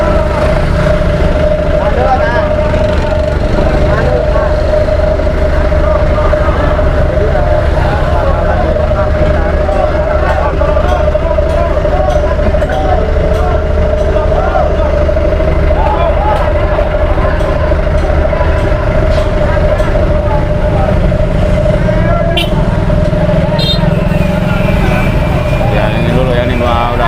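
Dense road traffic rumbles continuously at Kali Srengseng during a building demolition. A steady engine drone and a constant hum are mixed with crowd murmur and scattered voices for the whole stretch.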